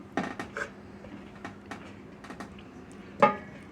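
A pan lid is lifted off a chili, cheese and jalapeno omelet: a few sharp metallic clinks and taps of lid against pan, with a louder clank near the end, close and otherwise quiet.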